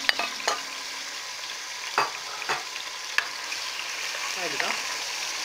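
Onions fry in a pot as the base for an Algerian soup, giving a steady close sizzle with a few sharp utensil clinks and scrapes against the pot, fairly quiet and without talk.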